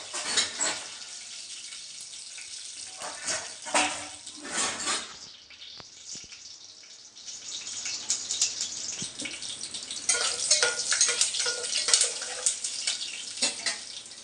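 Peanuts sizzle and fry in a pan while being stirred for godhuma ravva upma, a steady hiss with bursts of scraping and louder crackling that swells and fades, no voices.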